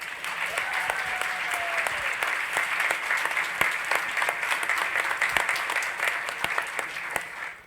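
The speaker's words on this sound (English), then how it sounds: "Please give Maria and Specs4Us one more round of applause." A room full of people gives a warm round of applause, dense steady clapping with a few louder claps near the front, fading out at the end without any speech.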